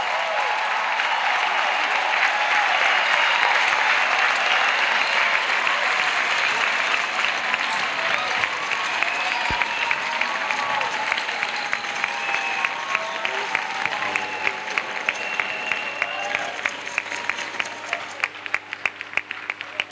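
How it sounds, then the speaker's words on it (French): A church congregation claps for Jesus Christ during a worship service, a sustained, loud crowd of hands that settles into a more rhythmic beat toward the end. "Let's clap for Jesus Christ."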